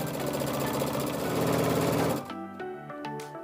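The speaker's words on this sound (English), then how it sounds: "Press your foot down and begin to stitch." A sewing machine runs a steady, fast mechanical stitch along a king-size pillowcase seam for about two seconds, close and loud, then stops and leaves softer clicks and knocks of the machine settling.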